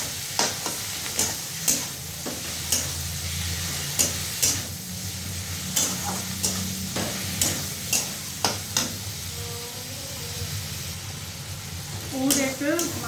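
Minced meat frying in oil in a pan with cumin powder: a steady close sizzle broken by regular, rhythmic scrapes and knocks of a spatula stirring, with a brief voice near the end.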